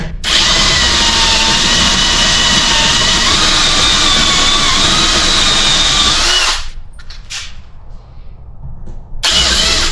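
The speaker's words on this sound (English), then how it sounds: "When you're drilling, it pays to sometimes pull out to clean out any crap that's in the hole." A loud, steady power drill bores a hole while a slip yoke eliminator kit is installed on a 242 HD transfer case, whining continuously for several seconds before dropping away into quieter, uneven drilling and a short restart.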